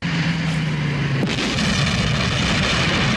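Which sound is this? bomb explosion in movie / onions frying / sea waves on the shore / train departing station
bomb explosion in movie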